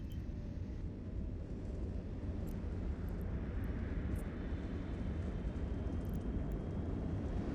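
Warp drive activating on a ship in EVE Online, a dense, steady low rumble with a faint higher hiss, sustained and unchanging for several seconds with no voices.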